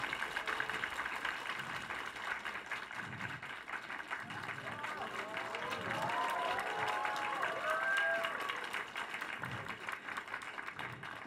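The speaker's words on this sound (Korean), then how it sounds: "큰 박수 부탁드립니다" Audience applause for a two-director talk event after a film screening, a steady wash of clapping from a large crowd that swells midway, with cheers and whistles rising over it.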